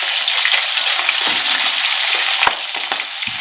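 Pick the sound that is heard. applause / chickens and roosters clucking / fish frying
fish frying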